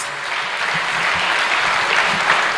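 A lecture audience at an Africa Day event gives a speaker a big round of applause, dense continuous clapping that fills the whole moment at a steady, loud level.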